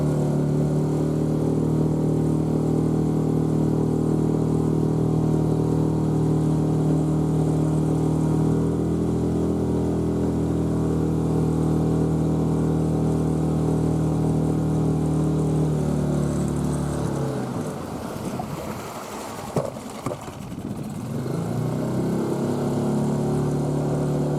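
A motorboat engine drones steadily and loudly up close throughout while moving slowly on a river, its tone wavering briefly near the end.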